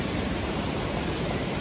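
A rushing stream near Jaljale waterfall in Pokhara gives a steady, dense broadband roar of water, close and continuous with no voices.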